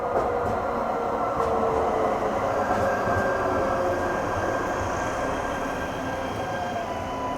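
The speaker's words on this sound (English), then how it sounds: "Hold up, y'all. The train is coming." A Baltimore light rail train passes close by in the street, steady rumbling wheels on the rails with faint rhythmic clicks and a thin squealing tone, loud and continuous throughout.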